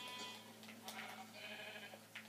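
Sheep bleating in a video game, a few short bleats over a steady hum of game ambience, fairly faint.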